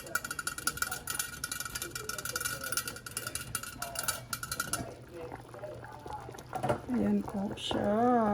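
Sinigang na pampano broth, a sour Filipino pompano soup with pechay bok choy, bubbling at a steady boil in a pot, with a dense liquid hiss throughout while someone talks over it.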